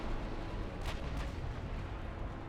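Heavy 16-inch naval guns fire in a battleship engagement in Ultimate Admiral Dreadnoughts, two booming blasts close together over a constant low rumble of battle ambience.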